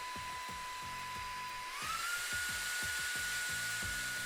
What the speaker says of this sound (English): Pressing on the fan icon turn it on while also switching between 2 different suction power levels, medium and high.